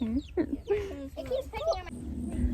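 Backyard chickens give short, close clucks and chirpy calls in a rapid, uneven series, with people talking nearby over them.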